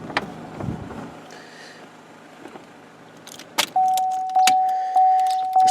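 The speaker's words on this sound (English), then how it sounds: "I shall switch the car off now actually." A 2013 Chevrolet Cruze sedan is switched off, with a soft click and keys jangling in the ignition, followed by a steady repeating door-open warning chime.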